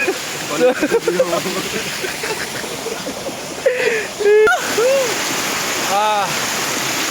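A roadside waterfall gives a steady rushing wash of falling water, close and continuous, while people talk over it and a voice briefly rises in pitch.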